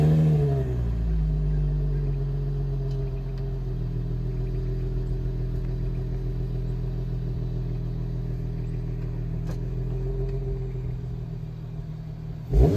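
A 2006 Infiniti G35 idling steadily after an engine start, its low rumble shifting slightly in pitch with a brief rise near the end, heard from outside the car with no talk.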